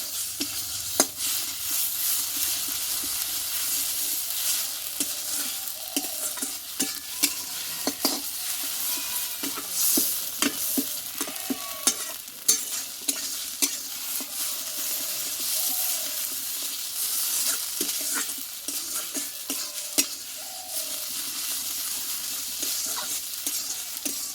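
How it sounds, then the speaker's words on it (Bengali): Ground ash gourd leaf paste frying in oil, a steady close sizzle with scraping, irregular spatula strokes against the pan throughout, no voices. "পাতা বাটাটা দু মিনিট মতো খুব অল্প আছে ভালোভাবে ভেজে নেব আর এই পাতা বাটাটা কিন্তু যত ভাজা যাবে তেলে কিন্তু ততই টেস্টি হবে"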